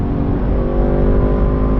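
A motorcycle accelerates on a freezing cold ride, a loud, steady engine drone with a rising hum and wind rush from close up, no voices present.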